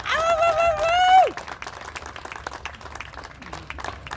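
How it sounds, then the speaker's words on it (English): Crowd applause for Eric Parker at the Capitol in Boise breaks out right after a loud, drawn-out announcing voice, then carries on as a steady, moderately distant patter of clapping. "please, warm round of applause for the gun on the bridge"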